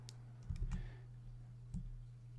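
A few quick computer mouse clicks during work in Adobe Illustrator, sharp soft taps in two small clusters over a low steady electrical hum.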